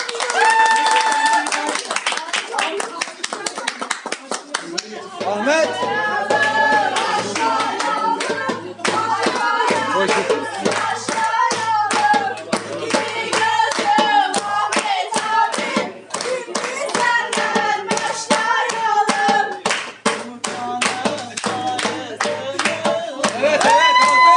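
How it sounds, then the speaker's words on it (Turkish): An audience claps in steady rhythm at a night-time celebration, crisp repeated hand claps continuing nearly nonstop while voices and singing carry on over them. "Evet alkışlıyoruz alkışlıyoruz"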